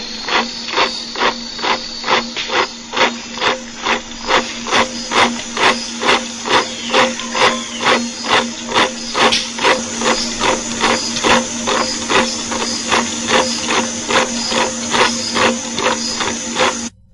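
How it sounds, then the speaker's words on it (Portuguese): Aztec ants give off a dense, hissing alarm noise that pulses in a steady, marching rhythm, close and continuous, with no voices. "Espanta formigas astecas, cujos ruídos de alarma lembram batalhões marchando."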